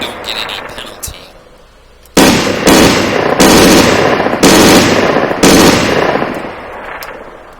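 An MG42 machine gun in the video game IFA3 fires loud, close bursts, four or five sustained volleys each trailing into an echo, after a quieter opening.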